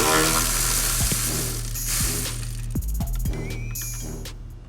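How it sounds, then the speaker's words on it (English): Ratchet backing out the two 10mm bolts that hold the coolant reservoir on a 2008 Infiniti G37: a series of crisp, close clicks at uneven intervals over a steady low workshop hum. "Let's remove the 2 10mm bolts that hold the coolant reservoir."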